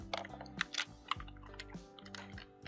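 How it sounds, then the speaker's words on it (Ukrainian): Keys pressed on a computer keyboard, including the Enter key, give several separate close clicks and taps at an uneven pace with no talk over them. "Натиснемо Enter."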